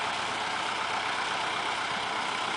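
A tractor engine runs steadily on a dairy farm, a dense, even mechanical rumble with no breaks, heard fairly close and alone.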